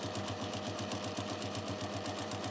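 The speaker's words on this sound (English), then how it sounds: "I sew down the double sided first" A sewing machine stitches down the double-sided edge of a fabric pouch, a quiet, steady, rhythmic whir of needle strokes with no pauses.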